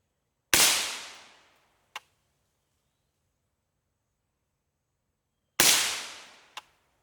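Two loud, sharp gunshots from an unsuppressed B&T firearm sound several seconds apart, each ringing out and followed by a brief faint crack in the quiet.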